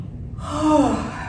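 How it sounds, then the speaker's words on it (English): A single deep breath during a yoga practice, drawn in audibly close to the mic and rising into a breathy, sighing tone. "Take a couple of breaths."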